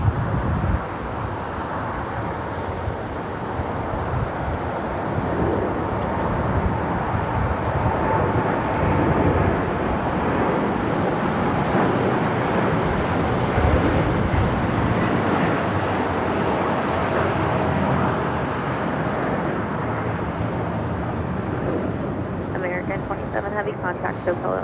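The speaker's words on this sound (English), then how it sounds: "We got that American Dreamliner heading to Tokyo Haneda." An American Airlines Boeing Dreamliner departing LAX for Tokyo Haneda, heard as a loud, continuous, broad jet roar that holds steady for the full length, with voices talking over it.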